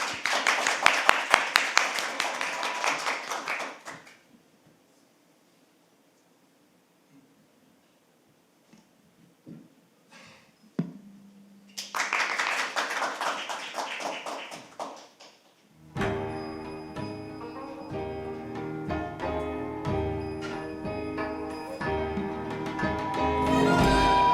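Clapping from an audience welcoming a crossover singer at a panel discussion comes in two short bursts separated by a quiet gap, after which a piano-like musical introduction begins and continues to the end.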